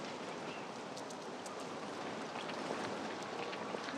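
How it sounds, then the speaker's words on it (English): Rain falls steadily outdoors in a continuous, soft, hissing patter with faint scattered drop ticks, even in level and fairly quiet with no voices. "This rain isn't helping any either."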